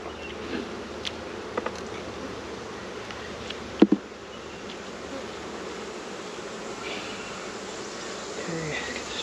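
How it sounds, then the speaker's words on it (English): Bees buzz steadily around an open hive during a honey harvest, a faint, continuous insect drone with a few sharp knocks partway through. "we got some bees up here"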